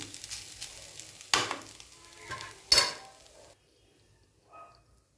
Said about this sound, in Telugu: ఇందులో కాస్త నూనె ఎక్కువ పడద్దండి, ఎందుకంటే ఫ్రై కదా. ఇది బాగా వేగాలి.